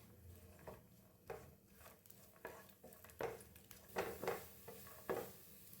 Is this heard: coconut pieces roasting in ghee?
yes